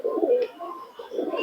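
A teddy pigeon coos softly up close, two low throaty rolling calls separated by a brief pause.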